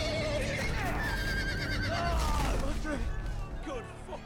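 Horses neigh and whinny with rising, wavering calls in a Telltale Game of Thrones video game scene, loud and close over game noise and a busy background.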